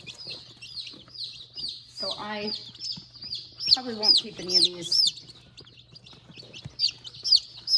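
Golden Comet chicks peep in a box, a near, steady run of high repeated cheeps through the whole stretch, while someone talks over them.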